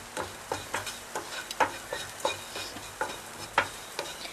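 Noodles being mixed with a heaped teaspoon of herb and garlic seasoning in a hot pan, regular scraping stirs about every half second over a faint sizzle, close and fairly loud, no talking.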